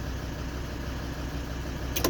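A Volkswagen Crafter diesel van engine idles steadily just after starting, a continuous low rumble held at an even level, with a brief brighter burst right at the end.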